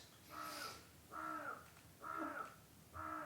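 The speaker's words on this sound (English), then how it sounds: "Oh, we've got a crow in the chimney." A crow caws from inside a chimney, four evenly spaced harsh caws that sound muffled and distant against a quiet room.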